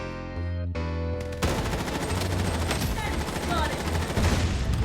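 Dense, continuous gunfire in the mobile first-person shooter battle royale BloodStrike, a loud, close fusillade that follows a few opening tones and runs steadily throughout.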